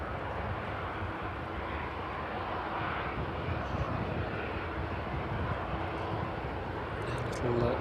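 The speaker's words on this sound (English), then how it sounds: "Sounds like a Bombardier, maybe the JCB." A Bombardier aircraft at East Midlands Airport produces a steady, moderately loud engine rumble that persists without break at some distance.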